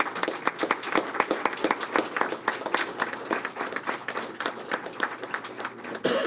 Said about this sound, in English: I would like to also take a moment to acknowledge other people in the room who deserve a really big round of applause.